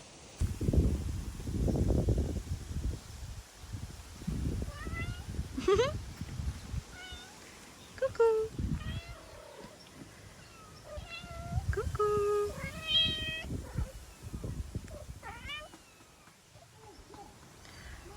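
A small kitten meows repeatedly, thin high-pitched cries scattered over the span, with rustling and handling noises close by and soft voices in between.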